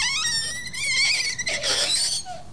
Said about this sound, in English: as the gas from the dry ice is escaping the surface, it's pressing against the spoon and pushing it away, causing it to vibrate